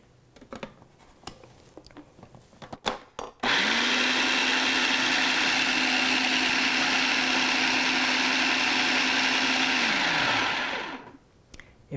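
A food processor blending food runs in one sustained, loud whir for about seven seconds, stopping abruptly, with faint kitchen clatter before it starts.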